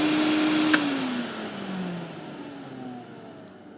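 An Electrolux push-button vacuum cleaner runs with a steady, loud motor whine and airflow that drops slightly in pitch and fades a little, heard close with no talking.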